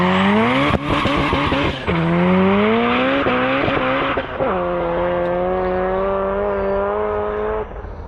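Boosted hatchback launching hard with tires spinning, a loud sustained engine roar with rising revs and repeated shifts in pitch, tire squeal mixed in, close and steady throughout.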